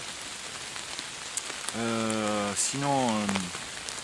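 Steady rain patters at a campsite in southern Gironde, a constant wash of noise beneath someone speaking in French partway through.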